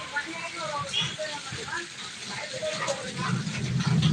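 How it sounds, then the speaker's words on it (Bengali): Heavy rain pours outside in the dark at night, a steady broadband wash that runs close and constant under a person talking over it. "প্রচন্ড বৃষ্টি হচ্ছে"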